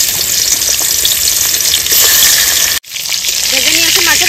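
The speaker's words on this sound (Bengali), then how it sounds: "তেল গরম হয়ে গেছে, মাছের মাথাগুলো ভেজে নেব।" Fish heads fry in hot mustard oil in a kadai, giving a loud, close, continuous sizzle with stirring noises, broken by a short gap, and faint voices underneath afterward.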